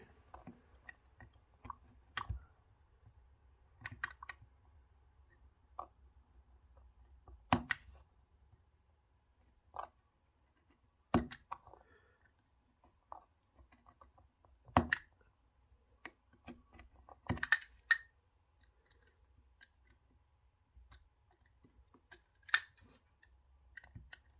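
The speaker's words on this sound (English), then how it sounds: "I'm just going to score and kind of trace the what I need to cut with the blade first" Razor knife scoring and tracing a cut line, sparse sharp scratching clicks and short scraping strokes at irregular intervals, close up, against near silence.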